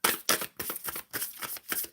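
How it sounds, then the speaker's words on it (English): Tarot cards are shuffled by hand in a series of quick riffling bursts, each a crisp flutter separated by short pauses, close and fairly quiet. "Shuffling for the collective sphere for the overall energy."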